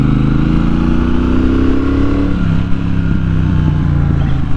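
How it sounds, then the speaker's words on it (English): Triumph Bobber Chrome Edition motorcycle exhaust thrumming loud and close, a steady low rumble that dips slightly as the revs ease partway through. "I just love the thrum of the exhaust."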